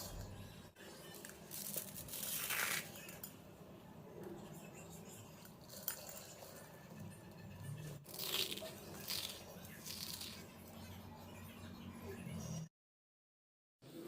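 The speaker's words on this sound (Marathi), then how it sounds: "आवाजावरून तुमच्या लक्षात आलंच असेल बघा किती कुरकुरीत शेव तयार आहे" Crispy, spicy homemade sev snack crunches in bites, giving dry crackling bursts in a loose rhythm, close and faint, followed by a short silence.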